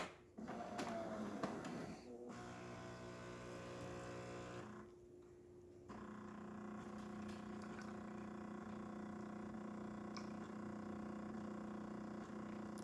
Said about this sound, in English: the grinder is definitely grinding the way it's supposed to